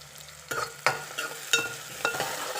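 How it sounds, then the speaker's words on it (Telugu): Chopped onions and green chillies frying in a pan, a soft sizzle broken by four or five sharp spatula scrapes and stirs, close and fairly quiet. "ఉల్లిపాయలు వేగుతున్నాయండి"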